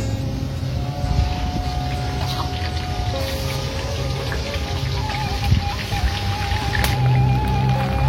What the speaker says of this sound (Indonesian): sekarang kita goreng ayam